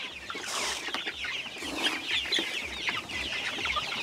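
Native pullets cluck and chatter steadily at close range, a dense flock of young hens with overlapping calls and no voices.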